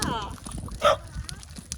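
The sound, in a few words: dog barking and whimpering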